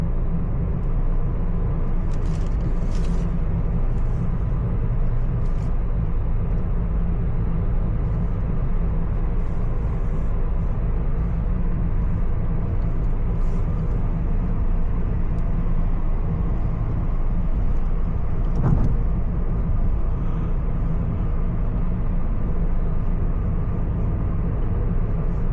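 Steady road noise and engine rumble from a car cruising on Makkah Road, a highway in Riyadh, in the evening; a constant close drone lasts throughout with no talk.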